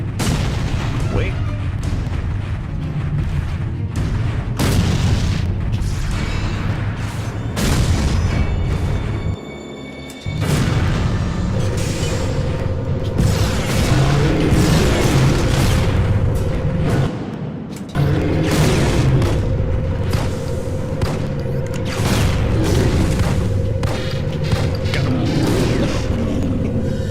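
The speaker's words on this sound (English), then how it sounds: "Using the rocket, then the shotgun seems to." Rocket launcher and shotgun blasts in the PSP shooter Resistance Retribution, repeated heavy booms and sharp bangs in quick succession over a busy, loud battle din with mechanical clatter.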